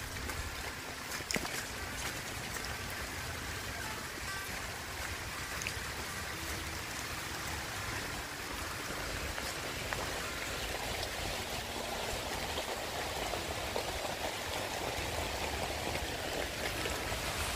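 Steady rain falling during a storm in Bicol, a dense continuous hiss of drops hitting surfaces, fairly faint and unbroken for the whole stretch with no voices.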